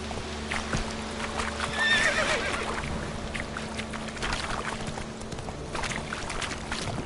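A horse in the video game The Witcher 3 trots with steady clip-clopping hooves and gives a clear whinny partway through, close and moderately loud over a low ambient background.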